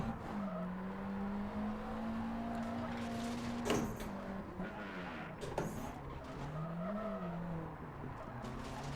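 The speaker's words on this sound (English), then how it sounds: "Probably didn't need the handbrake there" A rally car in Richard Burns Rally on the 1984 Circuit of Ireland stage: a steady droning engine note that dips and rises, with a couple of sharp scraping bursts as the handbrake throws it into a skid.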